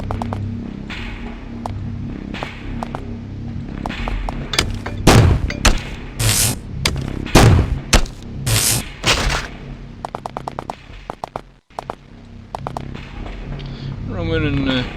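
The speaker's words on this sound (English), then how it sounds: "Hear a series of explosions." A rapid series of loud booms and blasts erupts in the middle, echoing, with softer impacts and rumbling around them, from explosions in the video game Nethergate.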